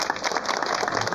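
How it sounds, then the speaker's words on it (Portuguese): Congregation at a Catholic baptism Mass applauding, a brief dense burst of many hands clapping at once, loud and close. "Vamos aplaudir a Juliana."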